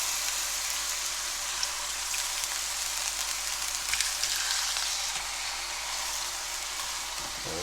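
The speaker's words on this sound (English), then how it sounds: "Sizzle, sizzle." Steady, crackling sizzle of squid frying in a hot pan, continuous and close with no pauses, a dense hiss that holds level throughout.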